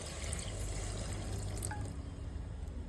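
Water pours into a pan of shrimp and eggplant curry as a steady, close liquid rush with a few faint drips, no talking.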